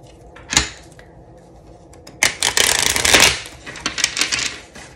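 Tarot cards are handled and shuffled close by: a single sharp riffle, a short pause, then a longer burst of rapid papery riffling and flicks that tapers into scattered shuffles.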